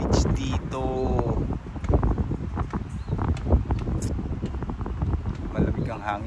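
Strong, cold wind buffets the microphone at Micro Beach in Saipan, a continuous rumbling roar that persists throughout, with a person talking over it.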